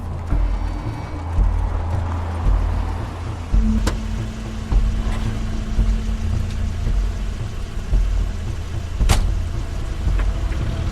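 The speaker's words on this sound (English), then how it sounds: "That's Crane's car." Crane's car in the video game The Wolf Among Us, a low engine rumble that hums on for several seconds with a steady drone, cut by a couple of sharp clicks or knocks, moderately loud with no voices.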